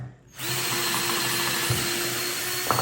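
A Ryobi 18V ONE+ cordless drill spins up and bores steadily through a 2x4. The motor whine holds loud and even for a few seconds, then ends with a brief thump as the bit breaks through.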